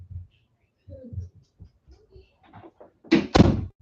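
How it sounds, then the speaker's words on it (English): A door is pushed shut indoors with a firm thud near the end, after some faint low bumps and quiet movement; no one speaks over it. "Close my door."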